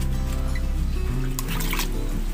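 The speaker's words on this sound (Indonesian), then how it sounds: "Pertama siram dulu ya guys, supaya tanahnya gembur" Water trickling and pouring onto garden soil around tomato plants beside a house, a steady close liquid stream with a low gurgling undertone running continuously without talk.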